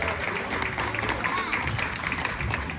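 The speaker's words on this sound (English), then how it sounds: "Big round of applause for Hezekiah" An audience at a Marvelous Mysteries of Fright Manor demo show applauds the performer Hezekiah, a dense patter of clapping that runs throughout, mixed with a voice speaking over it.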